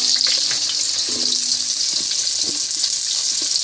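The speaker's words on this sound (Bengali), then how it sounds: "তো আলুটা ভালো করে ভাজা হোক" Potato strips fry in oil with cumin, giving a steady, bright hiss of sizzling throughout, with faint clinks and a low tonal hum in the background.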